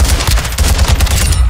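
Rapid automatic gunfire from a video game firefight, loud and close, with dense bursts of shots rattling continuously over a low rumble for the whole stretch.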